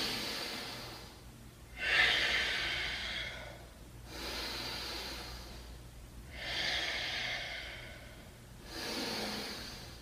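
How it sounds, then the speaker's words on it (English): Slow, deep nasal breaths during a yoga warrior 2 pose, four long audible inhale-exhale cycles close up, steady and unhurried with no talking. "Give me 5 good breaths."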